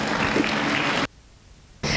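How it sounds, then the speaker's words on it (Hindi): A school Hindi Diwas celebration audience applauds tenth-grade students coming on stage, a dense burst of clapping that cuts off abruptly for almost a second and then starts again. "जोरदार तालियों के साथ इनका स्वागत करें"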